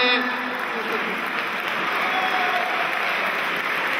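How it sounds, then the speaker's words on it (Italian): Sustained applause from an audience at an Italian comedy show, a steady dense wash of clapping that stays loud and even for the full length, with no clear voices on top. "Piglia questo applauso, guarda,"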